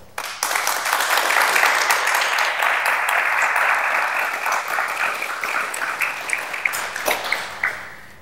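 A seminar audience applauds three panelists at a university admissions guidance event, breaking into loud, sustained clapping that swells quickly, holds for several seconds, then thins into scattered claps near the end.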